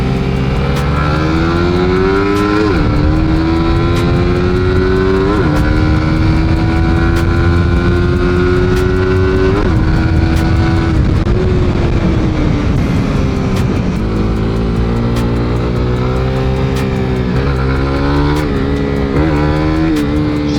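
Loud, close Suzuki Raider R150 Pro motorcycle engine revving continuously during a test ride, pitch climbing and dropping through repeated gear changes as it accelerates, with no voices.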